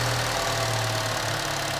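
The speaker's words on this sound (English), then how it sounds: "With a cold start, that's why it's running so high, such high RPMs, so loud." A 2012 Chevy Cruze RS with a 1.4 liter turbo engine idles high and loud after a cold start, giving a steady close drone with a low hum and no talking.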